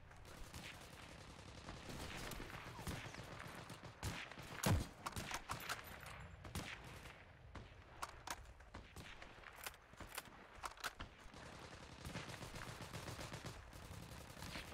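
Video game gunfire while shooting enemies: scattered sharp shots and short bursts, one louder crack standing out, over a busy, faint background of game sounds.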